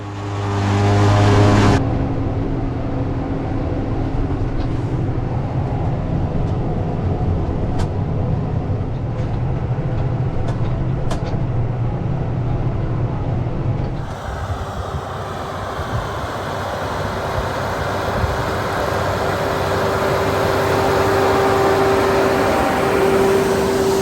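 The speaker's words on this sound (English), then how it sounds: "we are running a Deutz Fahr 6155 tractor here that is pulling a Pottinger Impress" A heavy diesel Deutz Fahr 6155 tractor pulling a Pottinger Impress hay baler drones steadily for a long stretch with machinery clatter, changing pitch partway as the load shifts, loud and close in the open over rough ground.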